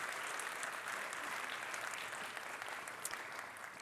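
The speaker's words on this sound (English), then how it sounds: "Let's give them a round of applause" An audience at a carbon capture, utilisation and storage forum applauds steadily, a dense even wash of many hands clapping throughout without a break, heard from a distance in a hall.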